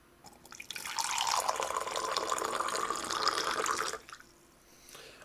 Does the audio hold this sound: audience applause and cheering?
no